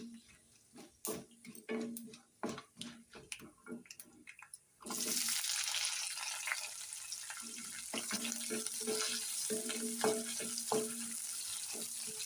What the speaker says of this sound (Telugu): ఇప్పుడు మనకు పోపు అయితే వేగిపోయింది ఫ్రెండ్స్. ఇందులో